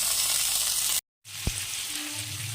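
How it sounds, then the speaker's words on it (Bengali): Potol (pointed gourd) and potato pieces frying in hot oil with salt and turmeric, a steady loud sizzle broken by a brief silent gap, then resuming with a sharp stir knock. "ভালো করে নেড়ে ছেড়ে আর লাল লাল করে ভেজে নেব আলুগুলো এবং পটলগুলো"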